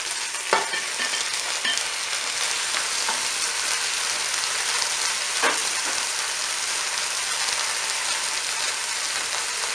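Tomatoes sizzle in hot fat in a Cookeo multicooker pot, a steady close frying hiss with a few sharp crackles and pops scattered throughout, with no talk.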